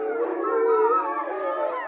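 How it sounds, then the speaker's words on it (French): Wolves at a zoo howl together at night, several long overlapping wavering tones rising and falling in a sustained chorus, clear and fairly close with no talk over them. "Les hurlements des loups sont une façon pour la meute d'assurer sa cohésion."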